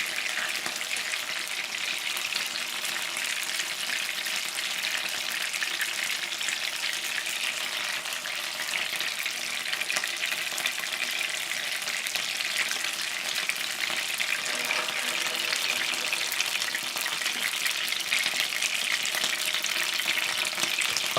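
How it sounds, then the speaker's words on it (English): Steady, dense sizzling of gyoza frying in hot oil after the water has evaporated, continuous and close, with no talking over it. "I can certainly hear that the water is basically now evaporated, and we're back to just on the oil."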